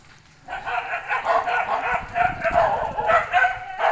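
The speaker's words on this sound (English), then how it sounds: "And the dogs are going nuts." Several dogs bark and yap continuously in an excited, overlapping chorus, fairly close and loud, somewhere in Cambodia, with the barking starting abruptly and carrying on without pause.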